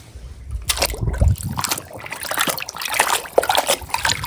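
A toy vehicle is washed in water, with irregular splashes, trickles and dribbles close by, with no talking.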